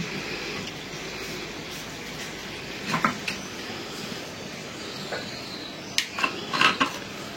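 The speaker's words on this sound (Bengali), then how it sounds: "কড়াইটা বসাই দিই" A metal wok (karai) set on the stove before frying pitha: a few sharp metallic clanks and knocks, one early and a small cluster near the end, over a faint kitchen background hum with no talking.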